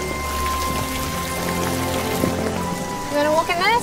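Heavy rain pelts down outdoors in Africa, a dense, steady patter of drops filling the whole stretch, with a brief voice rising over it near the end.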